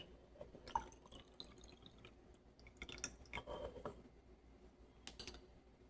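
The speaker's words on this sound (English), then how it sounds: "Now I'm going to put the extra water." Extra water poured into a gelling breakfast mixture in a home kitchen, a faint run of soft drips and splashes in scattered bursts with quiet gaps between.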